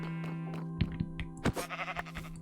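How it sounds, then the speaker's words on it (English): Sheep bleating in a Minecraft-style video game farm pen, with several short wavering bleats in the middle of the clip over a steady background of game music or hum. "Is there a sheep in the pen?"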